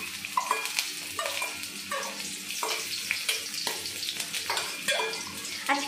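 Ingredients hit hot oil and sizzle for a lentil dal with bottle gourd, with a close crackling hiss broken by repeated stirring scrapes and clatters.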